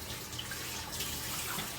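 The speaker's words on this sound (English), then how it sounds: "I'm going to allow my water to run until it's super hot" Hot water runs steadily from a kitchen faucet, a soft, even hiss and splash at close range with no talking.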